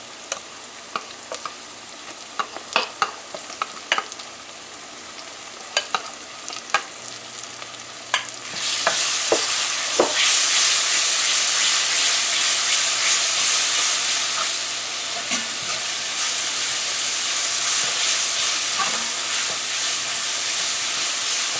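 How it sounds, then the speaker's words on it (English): Curry paste for a papaya, coconut milk and shrimp curry fried in a pan: scattered stirring clinks and scrapes, then a loud, steady sizzle as the paste hits the hot oil and keeps hissing close up. "Fry it up for about 2 minutes. So now we're going to add our curry paste."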